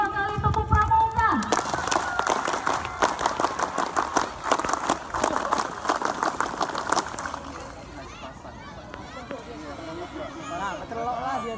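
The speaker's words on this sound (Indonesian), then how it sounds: "Dua kali tepuk pramuka." Scouts at a Pramuka Day ceremony perform the Pramuka clap twice, a burst of dense, rhythmic group clapping with voices that stops abruptly, followed by quieter chatter and background noise.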